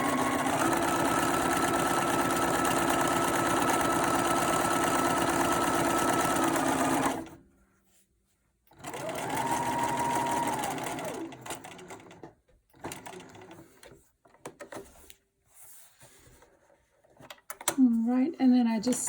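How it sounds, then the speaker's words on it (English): A sewing machine hums steadily at close range while stitching down the side of a fabric pacifier clip, then stops, restarts briefly and gives way to handling clatter and a short whine near the end. "Sew down the other side."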